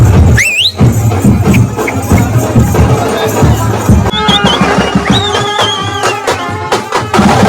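Festive crowd hubbub at a Mahashivratri palanquin procession for Lord Shiva in Aware village, a dense continuous roar of voices with squeals and whistles rising above it, loud and close throughout.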